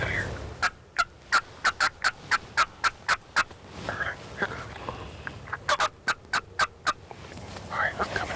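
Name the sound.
wild turkey gobbling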